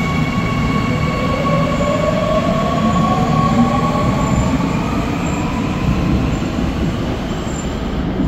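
Seoul metro subway train in motion, a loud continuous rumble of wheels on rails with faint high squeals sliding in and out, heard steadily from close inside the carriage.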